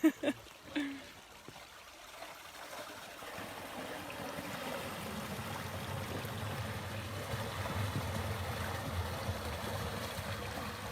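Water rushes in and fills quickly, a steady broadband gush that builds after a few brief knocks at the start and holds at a constant level, with voices faintly present.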